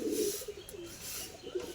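Racing pigeons coo softly nearby, a few low, rounded throaty calls rising and falling over a quiet background, with no one speaking.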